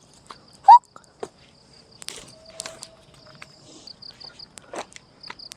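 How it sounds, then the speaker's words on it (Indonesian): Crickets chirping at night in a forest campsite, a thin steady high trill running through quiet darkness, joined by sparse rustles and footsteps nearby. "Suara jangkrik indah banget."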